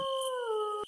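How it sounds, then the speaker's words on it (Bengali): A cartoon-style jackal howl rings out at night from a distance: a single drawn-out, slightly falling tonal cry lasting under a second, with nothing else around it. "শুধু দূরে কুয়াশায় ঢাকা মাঝে মাঝে শেয়ালের ডাক শোনা যাচ্ছিল।"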